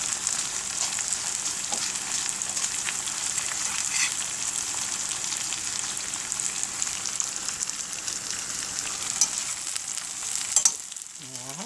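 Food fries in a pan with an even, close hiss and fine crackle that holds steady the whole time, with a few faint knocks near the end and no talking.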